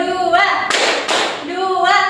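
Children in a classroom clap together in a quick burst on a teacher's cue during a clapping routine, with voices before and after the claps.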